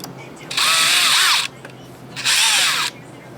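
A power drill with a metal-cutting bit runs in two loud, close bursts of about a second each, whining steadily, with a short quiet pause between them.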